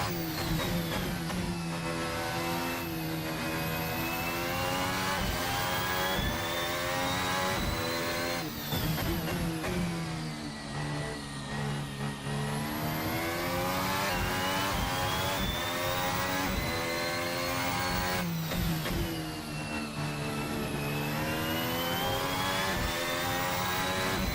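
A Formula Hybrid 2017 race car in the RaceSim Studio sim screams through its gears, its engine pitch climbing and dropping over and over as it accelerates and brakes through corners, loud and continuous with no talking.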